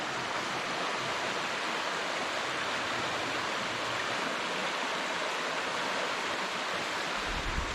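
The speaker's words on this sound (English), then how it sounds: "Made it down to Mosquito Creek." Mosquito Creek runs steadily and close by on a hiking trail, a dense, continuous rush of flowing stream water with no break or voices over it.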